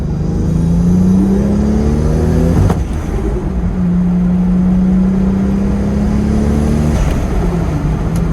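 Toyota Supra with a turbo engine and new boost controller on its first drive after work, a loud steady drone rising and falling through gear changes, with a short hiss break midway, heard from inside the car.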